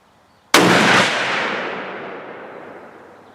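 A Savage 110 Desert Tactical rifle fires a single loud, sharp shot up close, followed by a long echoing tail that fades away outdoors.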